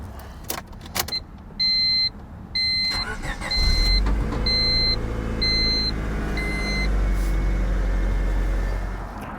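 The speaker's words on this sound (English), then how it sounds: "We'll go ahead and start the car," A 2000 Honda Civic EX engine cranks and starts after a distributor O-ring replacement, preceded by a series of repeated electronic door chime beeps, then settles into a steady, close idle.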